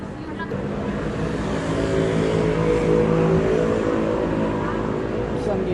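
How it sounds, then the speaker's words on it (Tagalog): City bus route 960 in Hong Kong, headed to Tuen Mun, pulling in at a stop, its engine giving a steady, fairly loud rumble that swells slightly midway, with faint voices in the background. "hindi rin nagtagal, dumating na ang bus"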